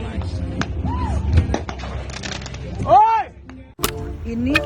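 Several sharp firecracker cracks and pops burst out from a boat in a national park while fruit bats fly, over steady outdoor background noise, with whistling tones and voices in between.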